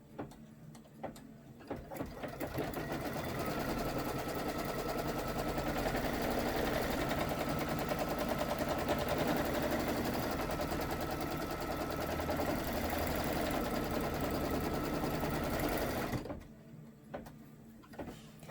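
An embroidery machine stitches out a felt hat brim, its rapid, steady needle rattle starting after a couple of seconds, running evenly and loudly, then stopping abruptly near the end with a few faint clicks around it.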